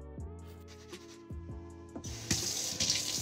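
Tap water runs into a sink during hand scrubbing for surgery, a close, steady stream that grows brighter and splashier toward the end with no one talking.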